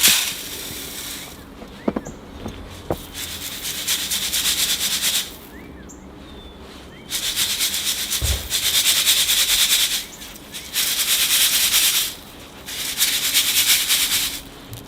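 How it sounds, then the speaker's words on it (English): Dry bonsai soil is shaken through a sieve to separate fine particles from coarse grit, coming as several sustained bursts of gritty rubbing and hissing with short pauses between them and a few faint knocks near the start. "I'm ready to sift up my soil, get all the fine particles out"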